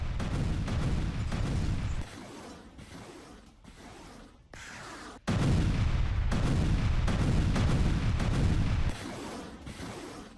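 News footage of an attack in Avdiivka, where heavy gunfire and artillery blasts roar continuously. The loud, dense rumble drops briefly and then surges back, with no speech.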